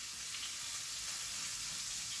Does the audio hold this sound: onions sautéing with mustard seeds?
yes